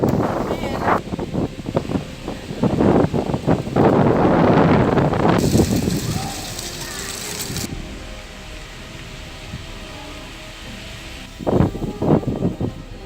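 Strong storm wind in Laos rushes and buffets the microphone in loud, sustained gusts, with voices talking and a vehicle audible underneath.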